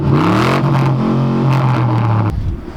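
A truck engine revs hard and loud while the truck drifts on a wet surface, a sustained roaring drone with a rising pitch that cuts off abruptly near the end, with no talk over it.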